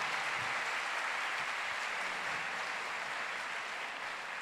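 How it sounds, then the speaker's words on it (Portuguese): A church audience applauds, an even, moderately distant patter of many hands clapping that holds steady and fades slightly toward the end. "Aplaude minha mãe aí, gente."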